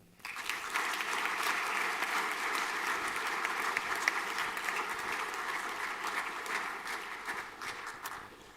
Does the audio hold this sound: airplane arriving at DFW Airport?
no